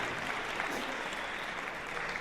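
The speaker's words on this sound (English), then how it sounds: "Big round of applause for all these band directors" Broad, steady applause from a large audience at a school jazz festival concert honoring the band directors, a dense continuous patter of many hands clapping close and fairly loud throughout.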